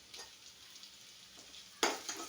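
Onion and green chili frying in a pan for a potato bread sandwich filling: a quiet, steady sizzle with a brief, louder stirring clatter near the end.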